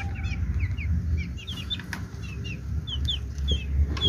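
Chickens on a farm, with chicks scurrying about, give quick high peeping chirps scattered over a low rumbling background, fairly close and moderately loud, with no one speaking.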